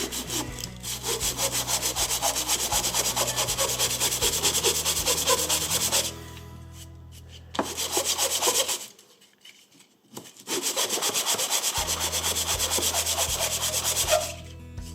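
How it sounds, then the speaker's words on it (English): Wood is hand-sanded with sandpaper on a table in steady, close scratching strokes, pausing briefly twice before resuming. "I've got this sandpaper laying on the table, I'm just going to sand it"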